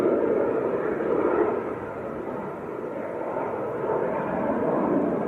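A Pilatus PC-24 jet departing at Manchester Airport, heard far off as a low, diffuse rumble that swells, fades slightly and rises again, steady and distant throughout.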